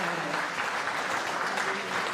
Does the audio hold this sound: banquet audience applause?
yes